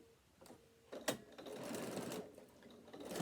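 A sewing machine stitches darts in bag fabric with right sides together, running in a steady whirring burst after a couple of short starts, close and clear with no talk.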